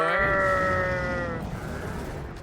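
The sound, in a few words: goat bleating in Dragon's Dogma: Dark Arisen video game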